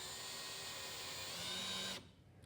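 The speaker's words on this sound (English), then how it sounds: "She's going to put the second screw in." A power drill driving a screw into a wooden board for a bench, a close, steady high whine lasting about two seconds before it cuts off abruptly to quiet room noise.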